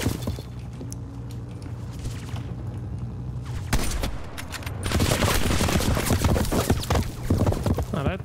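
Rapid automatic gunfire and bursts of shots in an online match of Call of Duty: Black Ops Cold War, sporadic at first, then intensifying into dense sustained firing with booms, heard up close over a low game hum.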